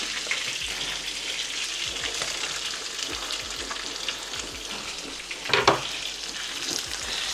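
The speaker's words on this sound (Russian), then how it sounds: "Так, здесь хорошо все нажарится, лук карамелизуется." Onion sizzles steadily with chicken in a covered pan, a dense, close hiss that holds throughout, broken by a few soft utensil clicks and one brief louder clatter near the end.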